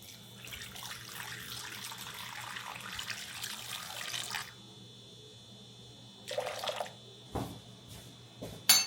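Warm water runs from a kitchen tap in a steady close stream for a few seconds, stops, then comes in two brief bursts with a small clunk at the end.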